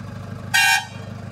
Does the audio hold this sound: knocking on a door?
no